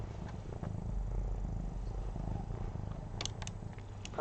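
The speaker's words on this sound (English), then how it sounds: "And she purrs a lot." A pet cat purrs up close: a soft, continuous low rumble that holds steady, with a few faint ticks and rustles near the end.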